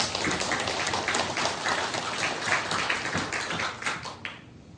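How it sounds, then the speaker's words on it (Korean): A church congregation applauds steadily, a dense wash of many hands clapping that holds for several seconds and then begins to taper off. "우리 하나님께 영광의 박수를 드립니다."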